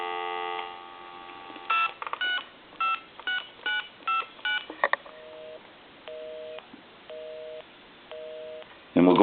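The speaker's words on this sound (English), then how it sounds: "so now what we can do is I can call my number and it'll be busy." Touch-tone keys on an AT&T Trimline Model 210 telephone beep in a quick series of short dual-tone presses, followed by several evenly spaced repeating tones like a busy signal, with a brief burst of noise at the end.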